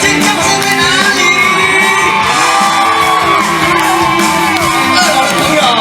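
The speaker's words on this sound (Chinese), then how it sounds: "全场的尖叫声在哪里？" At an evening outdoor concert at a festival in Chaozhou, Pingtung, the audience screams, whoops and cheers loudly and continuously, with many overlapping shrill voices.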